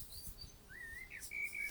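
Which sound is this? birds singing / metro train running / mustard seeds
birds singing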